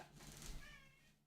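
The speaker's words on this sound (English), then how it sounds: "Cat." A house cat lets out a single drawn-out meow, faint and somewhat close, with a rising then falling pitch that tails off.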